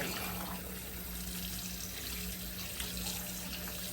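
A whole raw turkey is rinsed under a running kitchen tap, steady close water flow splashing continuously into the sink with no talking.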